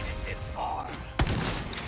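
A single loud shotgun blast in the Resident Evil 4 Remake game cracks out partway through, over a rumbling game soundscape with voices under it.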